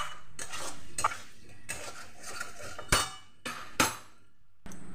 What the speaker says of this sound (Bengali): মশলার সঙ্গে সবজি ভালো করে কষিয়ে নিয়েছি।